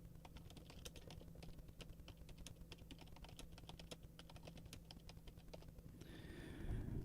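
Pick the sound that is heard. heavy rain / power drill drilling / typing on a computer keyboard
typing on a computer keyboard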